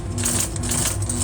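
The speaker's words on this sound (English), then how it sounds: "You might see me sometimes when I'm sewing like this" A sewing machine runs continuously, stitching upholstery fabric for a chair, a steady fast mechanical whir close by with no pauses over the short stretch.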